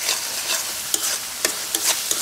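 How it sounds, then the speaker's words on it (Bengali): Spices and green chilies frying in a pan while being stirred, a constant sizzle broken by about five sharp scrapes and clicks of the spatula, close and clear, without any talking. "মশলাটা ভালোভাবে কষিয়ে নিচ্ছি"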